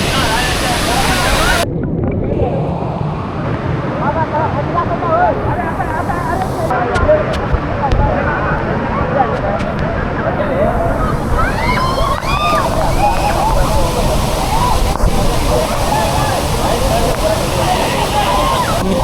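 Savari waterfall in Goa roars as a loud, constant wash of falling water close by, with someone speaking over the steady rush and occasional wind buffeting.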